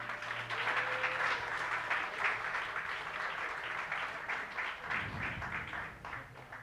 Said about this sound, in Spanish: Vamos a dar un aplauso, hermanos.